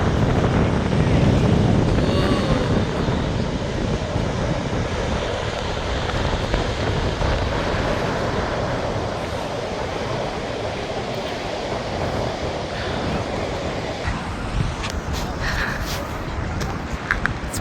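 Ocean waves crashing against rocks on a chilly coastline in South Africa, a steady loud wash of surf with wind buffeting the microphone, the roar holding constant throughout.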